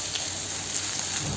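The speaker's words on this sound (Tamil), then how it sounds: "பூண்டு நல்லா கொஞ்சம் வாசம் வர்ற வரைக்கும் நல்லா வதங்கணும்" Garlic frying in hot oil until browned for a karampori snack, a steady close hiss of fine crackling sizzle, with no talking.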